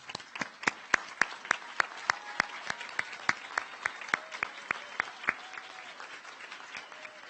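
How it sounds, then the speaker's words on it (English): Applause for graduates at a college commencement ceremony, mostly one or a few close, distinct handclaps in a quick steady rhythm that slow and stop, with faint crowd noise behind. "for that we applaud you"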